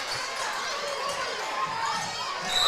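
A loud student section crowd roaring and shouting steadily in a high school gym during a Tiffin Calvert vs Fremont boys basketball game, a dense wash of voices rising slightly at the end.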